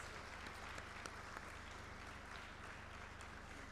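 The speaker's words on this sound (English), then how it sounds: "a huge round of applause, please." Steady applause from a crowd, a continuous patter of many hands clapping at a moderate distance, with no speech.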